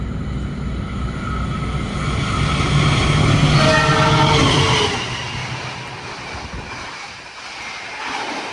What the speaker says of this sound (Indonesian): Barusan itu ya, kereta api Taksaka lewatnya ngebut